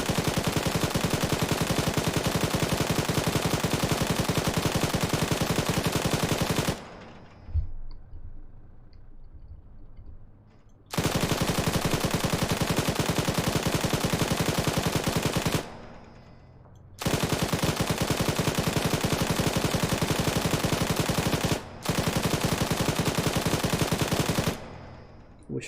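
Sustained automatic gunfire from an ArmA infantry firefight, long unbroken bursts of rapid shots separated by brief lulls, loud and close throughout.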